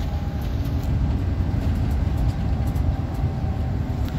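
Steady rumble of a fast train running toward Arafah on the Madinah to Mecca route, a loud, continuous interior drone with faint rhythmic rail clatter and no talk.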